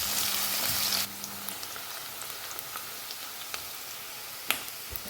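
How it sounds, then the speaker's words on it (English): Thinly sliced onion sizzles in hot fragrant oil in a one-pot tehri rice pan, loud and hissing for the first second, then dropping to a quieter steady crackle with scattered pops. "the oil becomes nice and fragrant, a thinly sliced onion goes in. Cook till the onions get a light color on them."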